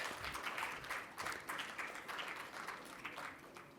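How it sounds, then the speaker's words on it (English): An audience at a school leadership summit gives a continuous round of applause, many hands clapping together in a large hall, steady for several seconds and fading slightly at the end. "A big round of applause."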